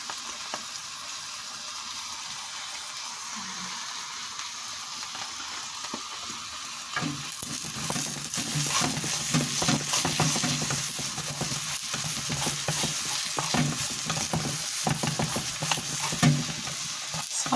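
Leftover roast chicken being stirred as it fries in a pan: a steady sizzle that grows louder and busier partway through, with scraping stir strokes and clatter on top and no talking.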